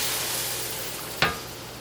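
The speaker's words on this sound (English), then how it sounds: "we will continue to stir this for another minute" A browning flour roux is stirred in a pan, a steady low sizzle under the spoon with one sharp scrape or clack near the end, close and fairly quiet.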